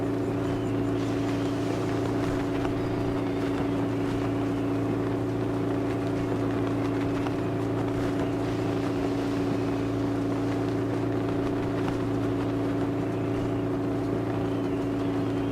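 Sailboat engine running in the eSail sailing game, a loud, steady motor drone with a constant low hum and wind-like rush, unbroken and without speech.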